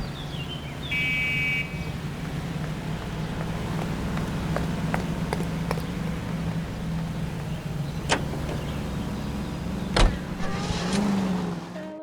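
A car drives steadily in the L.A. Noire video game, its engine a constant low hum with occasional sharp ticks and clicks over the top, loud and close throughout.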